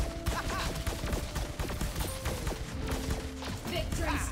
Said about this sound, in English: You made me call an airstrike.